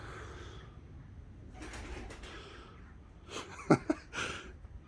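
Pigeons cooing and taking off, soft low coos near the start followed by a few sharp bursts of wing flaps and fluttering toward the end, fairly close and alone without talk.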